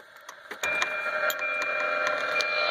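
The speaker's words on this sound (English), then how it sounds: "it's fuel pump noise." A car's fuel pump runs after the key is turned on while parked somewhere quiet with no traffic: a few faint clicks, then a steady, close electric whine and hum.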